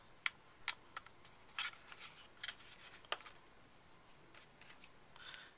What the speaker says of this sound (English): I can just take my scissors and trim those off